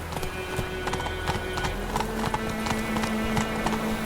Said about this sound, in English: Not so fast, Roach. Giddy up.